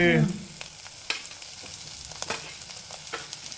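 Green chillies frying with browned onions in a pan, a steady close sizzle with occasional stirring clicks, no talking over it.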